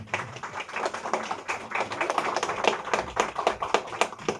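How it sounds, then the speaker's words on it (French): An audience at a conference claps in a steady, dense patter of many hands, moderately near and unbroken by talk for several seconds. "On peut peut-être l'applaudir, non?"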